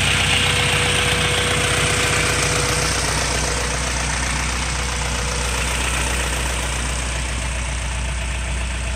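Car engine idling while running rich, a steady low rumble with a faint ticking pulse, close by and continuous with no talking.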